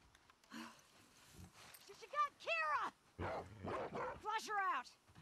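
A dog in The Last of Us Part II barks and yips in short, pitched bursts amid game sounds, with voices talking over the action.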